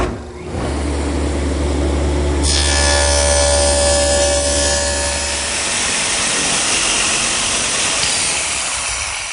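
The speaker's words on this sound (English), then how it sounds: "All of those are cut at the table saw." A table saw cuts a dado into a wooden side panel for a router station's bottom shelf. The motor whines up, then a loud, steady cutting roar sustains for several seconds before spinning down, with no talk.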